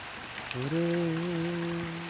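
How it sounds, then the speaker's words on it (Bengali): Steady hiss of falling rain, with a low sustained droning tone humming through most of the moment. "গাছপালাও সুন্দর হয়ে যায় বৃষ্টি পড়লে"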